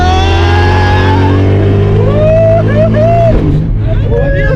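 Car engine revving hard and steadily during a two-wheel stunt, loud and close, with pitch rising and falling as the throttle changes and people talking over it.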